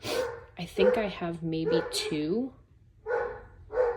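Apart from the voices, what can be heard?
dogs barking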